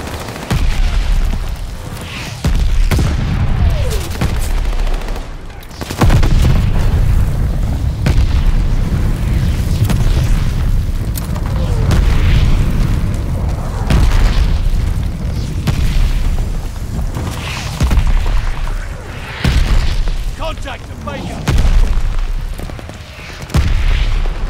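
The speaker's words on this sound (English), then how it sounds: "Allies pulling the mortar barrage." Repeated heavy booms from a mortar barrage in the Call of Duty Vanguard video game, loud and continuous with deep rumbling impacts landing every second or two across the whole stretch.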